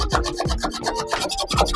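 Material for a DIY closet makeover in a girl's room is cut with a hand tool, making a close, rhythmic rasping scrape of repeated back-and-forth strokes with no talking.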